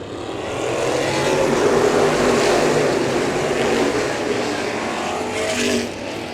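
Open-wheel modified race cars roar together as the field accelerates on a green-flag restart at Showtime Speedway, a dense, rising engine din that swells and holds with no commentary audible.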